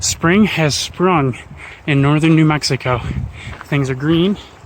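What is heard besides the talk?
No everyday noises stand out.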